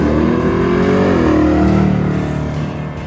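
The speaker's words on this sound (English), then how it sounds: "The car feels and sounds so much better with the new ignition system." Chevrolet Malibu car engine running with a new ignition system while driving, a steady loud drone whose pitch climbs and then levels off as the car pulls along, with no talking over it.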